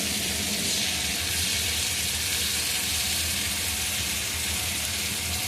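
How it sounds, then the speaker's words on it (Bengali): Ginger garlic paste frying in oil in a pan, a steady, dense sizzle that holds loud and even throughout with no pauses. "দিয়ে দিচ্ছি একটু আদা রসুনের পেস্ট"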